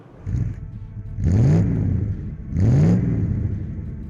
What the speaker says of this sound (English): Let's take this 728i for a drive and find out why.